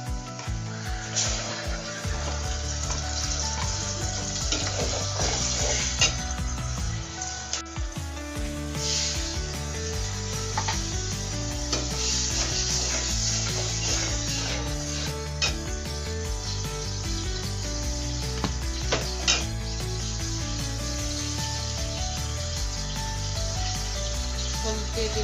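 Okra frying in a pan with ginger garlic paste and turmeric, a steady continuous sizzle with scraping and stirring noises throughout, close and fairly loud.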